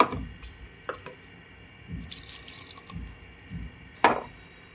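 Water is splashed into a cooking pot for a village-style pond fish and brinjal curry, coming in short, uneven pours and drips at close range with faint knocks and no voices.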